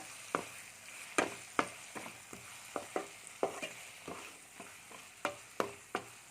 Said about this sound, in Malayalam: ബിരിയാണി മസാല ഇട്ട് കൊടുത്ത് ഒന്ന് എല്ലാം കൂടി ഒന്ന് യോജിപ്പിച്ച് കൊടുക്കാം